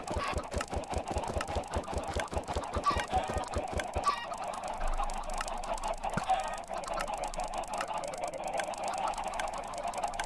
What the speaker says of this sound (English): I hear a chicken getting hurt.